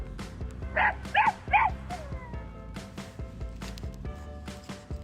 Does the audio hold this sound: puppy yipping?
yes